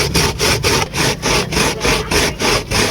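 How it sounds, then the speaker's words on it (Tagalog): Squash is pushed over a hand grater in loud, close, regular strokes, about four per second, each a coarse scraping rasp with short gaps between. "gumamit lang naman ako ng iniiran para maging pino nga itong kalabasa"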